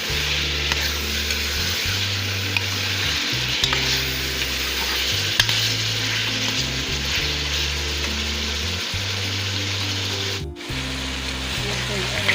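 Chicken pieces sizzle and fry steadily in a pan while being stirred for an aloo chicken fry, a continuous loud hiss with scraping stir strokes throughout and a faint voice in the background.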